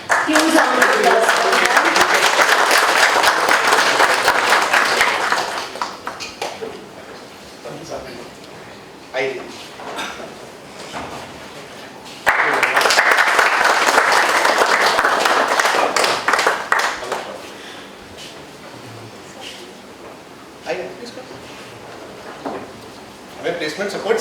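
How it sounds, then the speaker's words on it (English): An audience at a business school foundation program event in India gives a big round of applause, a loud sustained wash of clapping that fades, then swells again, with voices talking over the gaps. "Huge round of applause."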